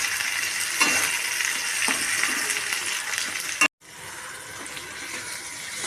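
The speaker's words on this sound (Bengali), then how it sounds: "এগুলোকেও আমি পেঁয়াজের সাথে আরেকটু ভালো করে নাড়াচাড়া করে নেব।" Chopped capsicum and tomato stirred with onions in a hot pan, a continuous close sizzle with occasional scraping strokes, cutting out briefly before resuming more quietly.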